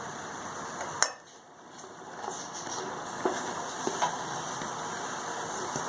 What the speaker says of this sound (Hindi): हम इसमें तोरी डाल देते हैं और सारे मसाले डाल देते हैं।